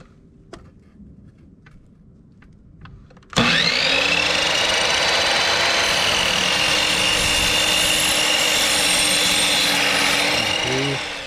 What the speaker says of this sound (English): I'm going to mark that out now and then cut it with the miter saw